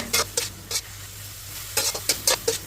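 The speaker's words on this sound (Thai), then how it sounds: "จากนั้นก็ผัดต่อค่ะ ผัดไปจนกว่าส่วนผสมจะเข้ากันค่ะ" Pickled bamboo shoot mixture being stir-fried in a pan for a northern Thai salad, with a quick series of scraping stirs over a soft sizzle, arriving in two clusters separated by a quieter pause.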